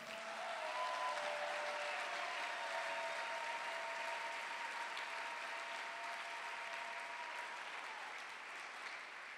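A church congregation claps and applauds God during a sermon, a steady, continuous wash of many hands that holds for the whole stretch and tapers slightly at the end. It is fairly distant in a large room.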